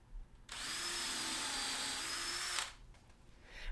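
Power drill with a collet-stopped bit boring a hole in wood, a steady high whine that starts abruptly, holds for about two seconds and then cuts off, followed by quiet handling noise.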